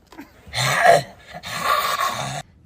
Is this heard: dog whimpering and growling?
yes